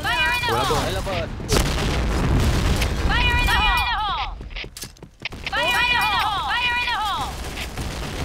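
A grenade explodes in the Point Blank shooter game, giving loud booming blasts with a crackling burst midway. Chirpy electronic game tones repeat throughout, and voices talk over it.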